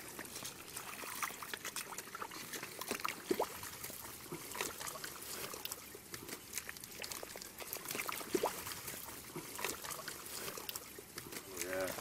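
Water trickles and pours steadily while taro plants are rinsed of mud at a Kahana Valley lo'i, a soft continuous splashing that runs the whole time, with people talking faintly around it.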